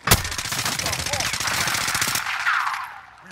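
Rapid bursts of video game gunfire crackle close and loud, a dense stream of shots with a sharp blast at the start, while a voice talks over the shooting before it fades.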